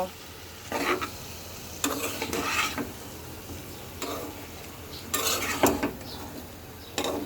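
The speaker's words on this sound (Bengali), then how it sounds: "এইবার আমি সব কিছু একসাথে সুন্দর করে মিক্সড করব। মিক্সড করার পরে কম আছে আমি এটাকে সুন্দর করে কষিয়ে নেব" Country rooster curry with spices is stirred and sautéed in a pan: bursts of metal spoon scraping and sizzling come in short clusters separated by quieter pauses, near and moderately loud.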